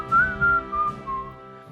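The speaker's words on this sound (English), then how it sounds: "came over with his typical whistling" A man whistles a short, clear tune of a few sustained notes, close and alone, with faint low background rumble.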